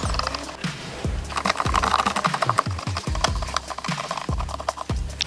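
Screwdriver or ratchet backing out four screws holding the shifter assembly in a Ford Focus, with irregular close clicks, scrapes and rubbing as each screw turns, no talking.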